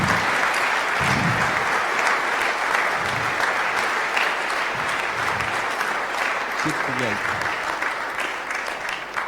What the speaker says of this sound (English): let's start off with a real big round of applause